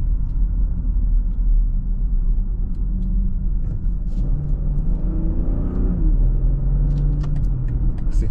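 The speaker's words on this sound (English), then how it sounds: "I'm just gonna do a little acceleration. I'm gonna put it in the sport transmission" Inside a 2021 BMW X7 xDrive40i six-cylinder SUV accelerating uphill in sport transmission mode, a deep steady engine rumble and road drone rises gradually in pitch, loud and continuous.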